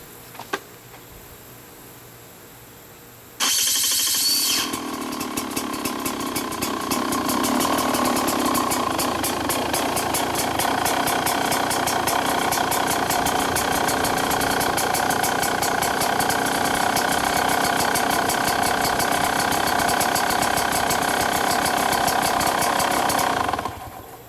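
A 2020 GasGas EC300 two-stroke dirt bike fitted with a SmartCarb fires up after a few seconds of quiet, then settles into a loud, close, steady rattling idle that runs uninterrupted to the end, with no talk.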